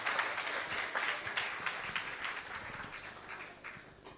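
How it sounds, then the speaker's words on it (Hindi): A crowd claps at a kavi sammelan, a Hindi poetry gathering, in a quiet, fairly distant burst of applause that slowly fades toward the end. "जोरदार तालियों से सम्मान करें आप"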